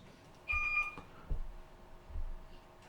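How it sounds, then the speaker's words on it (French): A phone ringtone goes off inside a church hall, a brief faint electronic two-tone chirp over a muffled room with soft thumps. "Non, c'est la sonnerie."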